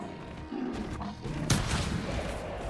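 A single rifle shot at a werewolf in the hunting game TheHunter cracks out sharply midway through a continuous outdoor ambience of wind and rustle, with a short tail after it.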